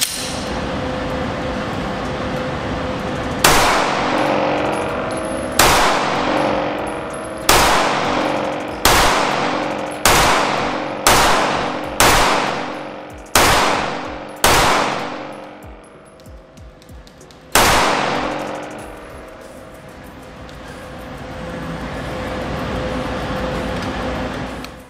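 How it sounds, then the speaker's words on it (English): A PFS-9 9mm striker-fired pistol fires about ten loud, sharp shots in a quick, fairly even cadence, then pauses before one final shot, with a faint room hum between. "the PFS-9 is a 9mm striker fire pistol. You can see from the shooting footage here that it shoots like a Glock"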